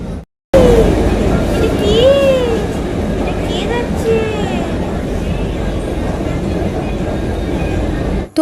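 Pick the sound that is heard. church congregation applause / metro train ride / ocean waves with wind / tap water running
metro train ride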